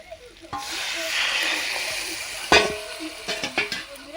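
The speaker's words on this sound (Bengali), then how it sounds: "ভালোভাবে মশলার সঙ্গে মাছগুলো পাঁচ মিনিট কষে নেবো" Vannamei prawns hiss and sizzle as they hit a pan of spice paste, a steady bright frying wash that gives way to scraping and clattering stirring strokes.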